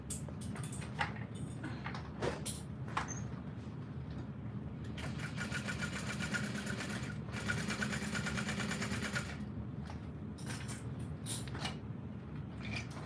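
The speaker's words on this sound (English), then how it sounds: "I'm home and I'm sewing. All right, top stitch." A sewing machine top stitching a canvas tote bag runs at home in quick whirring bursts, with a longer steady run in the middle and short pauses and handling clicks between stitches, moderately quiet with no talk.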